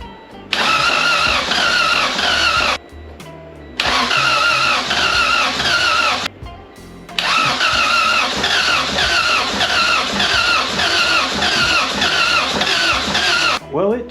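A Honda Civic fitted with a swapped B-series engine cranks over repeatedly, several loud starter bursts separated by short pauses, with the engine trying to fire but not quite catching; a voice talks over part of it.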